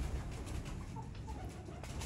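Salare Teddy pigeons coo softly in low, rolling calls amid a steady background hiss, fairly faint and without talk.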